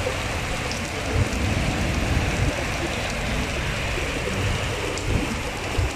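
Heavy rain pours steadily in Abu Dhabi on a windy morning, a dense, continuous hiss close by with a few faint voices in the background.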